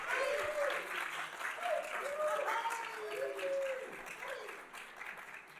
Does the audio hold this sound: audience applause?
yes